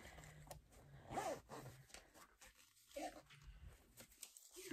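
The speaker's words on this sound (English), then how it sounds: "fabric's getting caught in my zipper" A clothing zipper with fabric caught in it during sewing work, heard as faint, scratchy, halting zipping tugs in short bursts against a quiet room.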